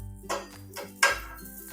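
Metal scraping and clinking of a spatula in a pan as a buttered aloo sandwich is turned over, two sharp scrapes over a low background hum, no talk.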